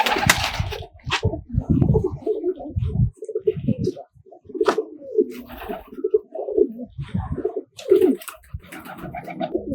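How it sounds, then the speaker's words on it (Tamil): Tumbler and timing pigeons coo in a loft, repeated low throaty rolling calls from several birds close by, with wing flutters and brief bursts of rustling between them. "இது சீரி அடிக்கும் புறா."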